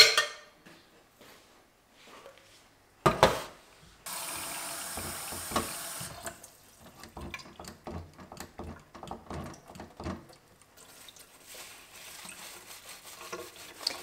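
Dishes are washed under a running tap in a kitchen sink, with bursts of flowing water, clinks and scrubbing clatter that come and go, close by and fairly quiet, with no voices.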